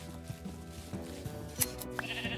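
A sheep bleats in Minecraft amid a quiet game soundtrack of soft tones, a short bleat rising briefly above the low music with no talking.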